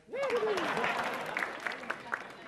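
Applause from a studio audience at a Metro TV stand-up comedy show swells in after a brief spoken line and carries on as a steady, moderately loud clatter of hands.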